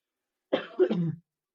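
A single throat clearing, close and fairly loud, lasting under a second, with no talking around it.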